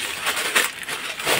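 Plastic packaging of a women's bag is torn open by hand without scissors, giving a crinkly, scratchy rustle in uneven bursts, close and fairly loud, with no talking.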